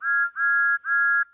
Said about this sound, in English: Trevor heard a whistle